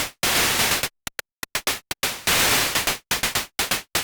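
Raw white noise from a hi-hat synth patch built in Bitwig's Grid, loud and broadband, cut into gated bursts: long hissing washes broken by quick stuttering chops and short gaps.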